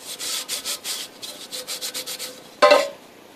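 A modern metal alloy piece is rubbed with fine sand to finish its surface: about a dozen quick, rhythmic abrasive strokes, then one louder, harsher scrape near the end, all close up with no voices.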